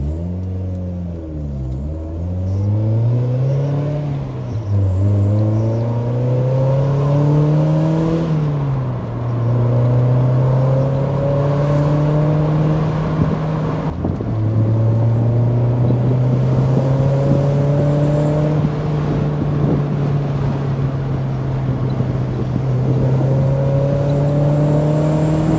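Mazda MX5 with a stainless steel Boffy exhaust driving on a test drive, its engine droning steadily and climbing in pitch through repeated gear pulls, close and loud with no talk.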